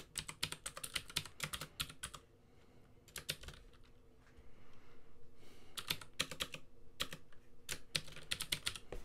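Quick bursts of typing on a computer keyboard while writing C# database code, the keys clattering in close, loud clusters with a short pause partway through.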